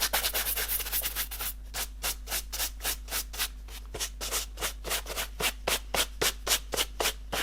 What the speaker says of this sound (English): just going to use the horsehair brush. Just brush off any sort of residue or anything like that.